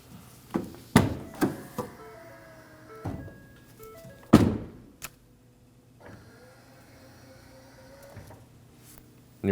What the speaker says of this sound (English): With the new motor installed, we can go ahead and test it.